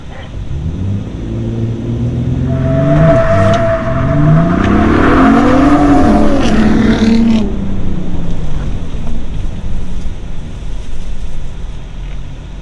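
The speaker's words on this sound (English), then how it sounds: "I forgot to put it in 4 high. So I spun out" A 2022 Ford Raptor spins out in a parking lot, its engine roaring loud and close with rising and falling revs and tire noise for several seconds before settling back to a steady idle rumble.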